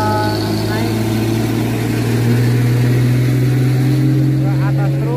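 An old legendary truck's engine labors steadily uphill, a loud, constant low drone with a strong mid-low hum throughout, close and unbroken.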